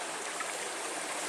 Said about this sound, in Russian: Начало постоянного тока ручья.